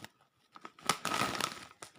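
A heavy bag of ketchup-flavored Pro potato chips is torn open up close, with a quick burst of crinkling, tearing plastic lasting about a second.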